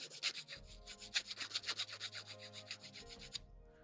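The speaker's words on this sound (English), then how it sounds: "Just rub it gently. You do not file roughly." A small plastic part from a 1/144 HG Bandai Gunpla kit, a Tiltrotor Pack, is gently polished by hand, giving a close, quick run of rhythmic rubbing strokes that stop abruptly, with no speech.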